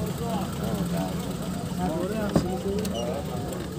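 A 2000 Daewoo Tico idles with its hood open at a used-car market, a steady low engine hum running under nearby talking throughout.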